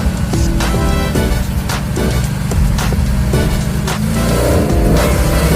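Car with a 318 engine and tunnel ram held at part throttle, a loud steady low engine drone with rhythmic pulsing and shifting pitch throughout, close up, no talk.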